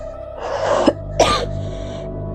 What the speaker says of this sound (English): excuse me again for all the coughing